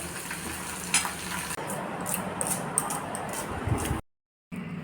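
Onions fried in a pan, with tomato going in, sizzle steadily up close while a utensil scrapes and clinks against the pan, then the sound cuts out briefly before resuming.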